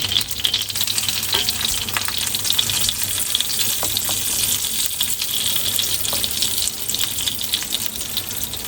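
Sea bream fillet laid skin side down in fat over medium heat crackles with a loud, dense, steady sizzle close up, with a few light pan clicks.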